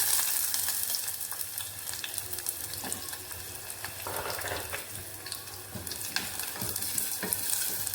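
Small shallots sautéing in a pan with curry leaves, a dense continuous sizzle and crackle with intermittent spoon stirring and scraping, close and fairly loud, no voices.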